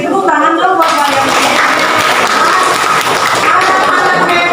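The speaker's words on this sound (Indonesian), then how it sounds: "Tepuk tangan dong buat kalian." Classroom of children clapping for their classmates during a school lesson, a brisk burst of applause at close range that starts after a short pause and continues steadily to the end.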